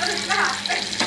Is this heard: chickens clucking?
no